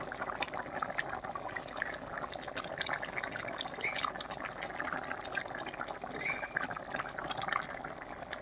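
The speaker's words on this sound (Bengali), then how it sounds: "মাছটা দিয়ে দিলাম।" Fish goes into a simmering aubergine fish curry in a Bengali kitchen, giving a steady close bubbling and sizzling that continues evenly throughout, with no talk.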